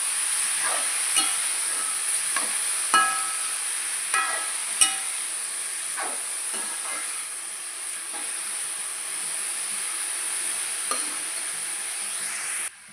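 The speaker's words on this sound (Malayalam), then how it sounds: "ചിരങ്ങ ഇട്ട് നന്നായി ഇളക്കി കൊടുക്കുക" Shrimp and chopped gourd fry in hot oil in a pan, a steady close sizzle with scattered scraping stirs and soft knocks from the spoon, and no one talking.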